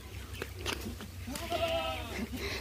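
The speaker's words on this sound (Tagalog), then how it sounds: "Masaya siya nakakita ng kambing na maliliit." Small goats bleat in a few short, wavering calls near the recorder, with quieter rustling and a faint background voice around them.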